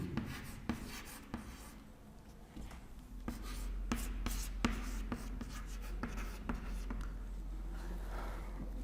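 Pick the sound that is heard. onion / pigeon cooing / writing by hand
writing by hand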